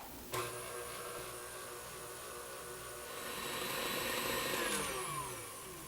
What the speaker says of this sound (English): I'm going to put the whisk back on and give it a whirl.